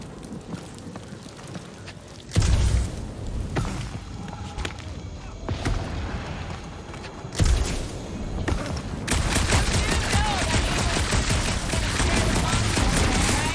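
Gunfire from the video game Guardians of the Galaxy in a dark monster-filled area, coming as dense bursts of shots and thuds that grow into a sustained barrage, loud and close, with no voices.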